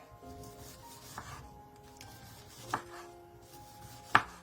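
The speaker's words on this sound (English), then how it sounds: "So I'm chopping it" A very sharp knife slices vegetables into fine shreds for coleslaw on a cutting board, with soft scraping cuts and a few sharper knocks of the blade, close and quiet.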